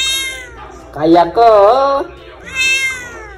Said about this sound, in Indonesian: Ini perbandingan suara anak kucing umur 1 bulan versus 1 tahun.